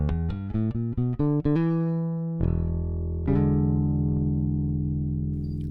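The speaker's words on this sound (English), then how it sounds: "here is what my bass sounds like with the SGT-DI bypassed" A bass guitar played straight with an Ampeg SGT-DI preamp bypassed: a quick run of plucked notes followed by two long sustained low notes ringing out, clean, close and alone.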